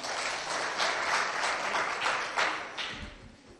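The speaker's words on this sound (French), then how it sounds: "Acclamez pour tous les enseignants" Steady, dense applause from an audience honouring teachers at a school competition event in Moundou, many hands clapping together at an even, close level that eases slightly toward the end.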